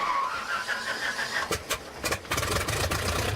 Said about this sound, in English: The engine was started.